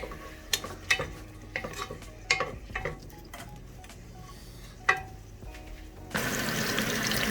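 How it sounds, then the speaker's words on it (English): Onion and garlic sautéing in oil, heard as sparse spoon taps and clinks against a pan over a quiet sizzle, followed by a sudden louder rush of frying hiss in the final second. "Now we're gonna put in a piece of onion, 2 cloves of garlic. We're gonna go ahead and saute."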